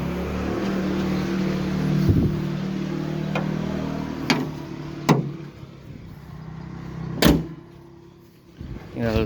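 A Kia Rio car engine warms up toward idle, giving a steady low hum broken by a few sharp clunks and thuds, louder near the end, with no talking.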